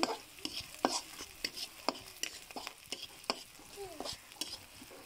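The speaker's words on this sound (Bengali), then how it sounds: "এটাকে ভালো করে ভেজে নিব।" Onions frying and browning in a pan with an egg dish, a spatula scraping and stirring in a steady series of short, fairly close scrapes over a soft sizzle.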